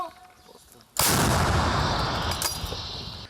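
After a moment of quiet, a single heavy shot from an M119 105 mm howitzer booms out suddenly, followed by a long, rolling roar that slowly fades.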